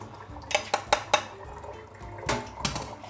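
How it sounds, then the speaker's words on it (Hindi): Soaked vegetable peels lifted out of water in a kitchen, giving four quick clinks of a utensil against a metal dish followed by softer wet clatters and splashes as they drain. "इसको भी पानी में से निकाली, मतलब इसको भी एक बार थोड़ा ड्रेन कर लेते हैं"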